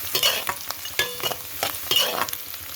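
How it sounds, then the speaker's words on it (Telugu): Ingredients being stirred and fried in a pan, with scraping strokes of a spoon at an irregular rhythm over a steady close sizzle, no voices. "బాగా కలుపుకోవాలి ఫ్రెండ్స్. బాగా వేగాలన్నమాట."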